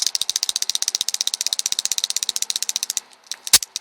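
Rapid, steady clicking of a plastic Beyblade engine gear being wound, a close ratchet-like train of sharp ticks that stops, followed by a single louder click.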